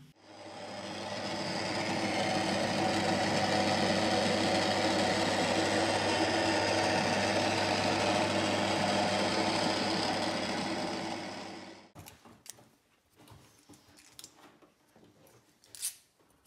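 A 250cc Kawasaki motocross bike engine runs with a sustained, loud steady drone for about twelve seconds, then cuts off, leaving faint scattered clatter and handling noises.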